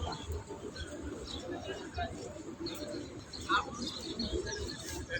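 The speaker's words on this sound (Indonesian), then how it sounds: "Keluar dari masjid dimanjakan oleh burung-burung yang berterbangan." Pigeons coo and small birds chirp outside the Masjid Nabawi mosque in Medina on a morning, with a crowd murmuring and people talking over the faint, scattered bird calls.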